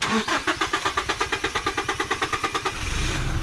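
A car engine cranks and sputters in a fast, even run of about twenty pulses on a slippery road, as if fuel is not reaching it, then settles into a rough, low rumble.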